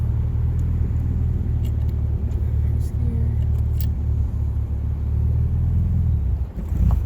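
A 1968 MGB's engine sputters low and rough as it nearly stalls from too little gas, a steady close rumble with faint clinks and no clear revving.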